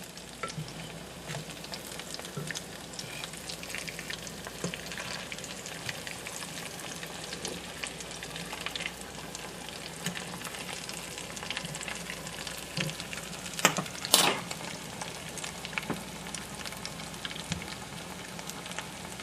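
Breaded pickles fry in hot oil, a steady dense crackle and sizzle holding even throughout, with a brief sharper burst of spattering near the end; no voices.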